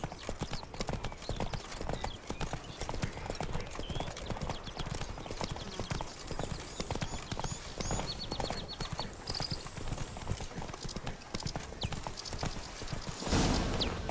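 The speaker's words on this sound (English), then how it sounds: "Whoa there, Roach." Hooves of a horse clip-clop steadily and close in The Witcher 3, with a quick, continuous trotting rhythm that goes on throughout, faint game sounds behind it and a burst of louder noise near the end.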